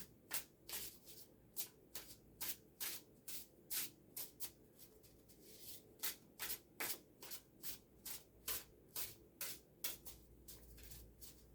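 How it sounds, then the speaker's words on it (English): A deck of tarot cards is shuffled by hand in a steady run of crisp riffling bursts, about twenty quick ruffles repeating at a brisk even rhythm, close and clear with no talking. "Shuffle the deck."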